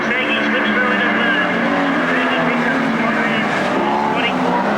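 Street stock race cars roaring around a dirt track, a loud continuous blare of engines throughout, heard beneath a commentator's steady voice.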